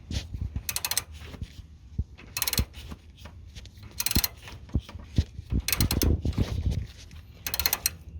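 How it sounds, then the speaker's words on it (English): A ratchet loosens a bolt on a Lotus Exige S CV joint, giving several bursts of rapid clicking separated by short pauses, close and fairly loud over scattered knocks of tools on metal. "I just need to keep loosening it up until the bolt comes out"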